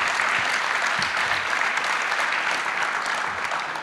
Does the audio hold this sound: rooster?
no